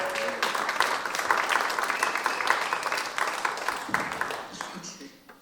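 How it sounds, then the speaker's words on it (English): An audience at a musicians' museum induction ceremony applauds with a lively clatter of clapping that gradually tapers off, and voices talk underneath. "Give a round of applause for these guys doing their best."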